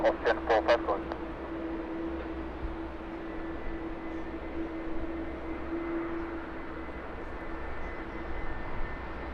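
Distant roar of a United Boeing 757 departing London Heathrow, a steady broad engine rumble with a faint whine that holds throughout, with brief sharp clicks at the start.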